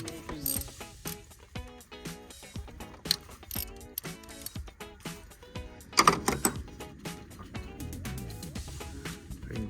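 A ratchet clicks rapidly and repeatedly as 8mm timing chain tensioner bolts are loosened on a 2010 Ford Fusion 3.5L V6, with close mechanical ratcheting in bursts and a louder clank near the middle.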